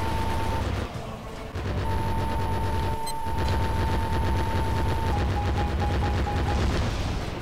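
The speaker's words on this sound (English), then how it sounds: "what was that explosion?" An explosion in the aerial combat video game Vector Thrust, heard as a loud, dense blast amid continuous game noise with a steady tone running through it, all without speech.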